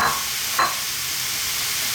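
Pork belly hits a dry pan with no oil and sizzles in a steady, close hiss, with a brief stir or scrape near the start and no talk.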